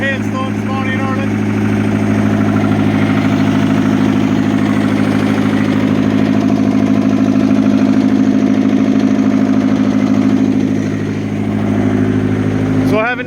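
A rescued excavator's diesel engine idles steadily and close by for a long stretch, a deep, even rumble that holds without a break on a cold Irish morning after snow and hail.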